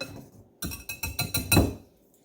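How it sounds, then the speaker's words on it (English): Whisking wet ingredients with nutmeg in a bowl, a quick series of about six clinking strokes against the bowl, close and fairly clear. "we're going to kind of whisk this all together, just like so"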